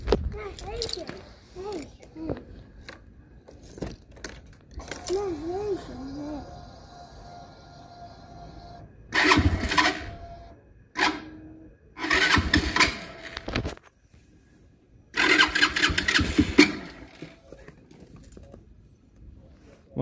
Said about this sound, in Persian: موتور روشن نمیشه، بعد دست بدیم.